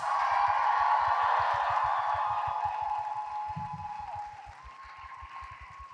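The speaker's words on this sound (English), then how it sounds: "let's have a big round of applause for our Masquerade entrants and winners." Sustained applause from a convention crowd for cosplay masquerade entrants and winners, steady and fairly distant, easing off toward the end with a music bed beneath.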